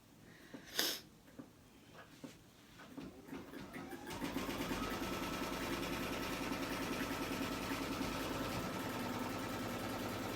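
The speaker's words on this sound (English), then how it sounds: "So I'm going to just let it stitch out the first stitch." An embroidery sewing machine stitches a placement line, starting after a few clicks and handling sounds and settling into a fast, even, continuous mechanical whir.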